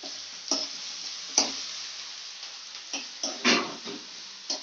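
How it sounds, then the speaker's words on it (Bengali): Chopped onions and green chillies sizzle in a pan for prawn malaikari, a steady close frying hiss broken by several sharp scrapes and knocks of a stirring spatula. "কিছুটা ভাজা হয়ে আসুন, তারপর মশলা দেবো।"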